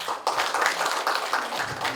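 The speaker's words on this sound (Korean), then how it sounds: "박수 한번." An audience at a cultural center gathering claps after a talk on the ajaeng, a bowed Korean string instrument. Many hands rattle together in a dense, fairly close burst of applause with slight surges.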